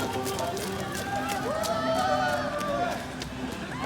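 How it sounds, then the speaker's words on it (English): Crowd of people along the Bosphorus in the rain, a steady babble of voices and footsteps of passing runners, with a dog nearby, carrying on without pause. "Oh, you hear the crowd."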